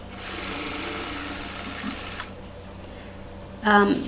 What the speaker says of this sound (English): what I'm doing is just turning that edge over and sewing it. This is just a regular straight stitch.